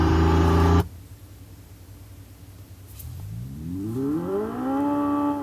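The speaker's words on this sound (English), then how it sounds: "the sound that the car makes under 30 kilometers an hour to warn pedestrians" Pedestrian warning tone from an XPENG G3 electric car, a low synthetic hum that rises gradually in pitch like an accelerating motor, preceded by a loud brief tone that cuts off.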